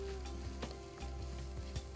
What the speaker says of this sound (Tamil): இப்போ வறுக்கலாம்.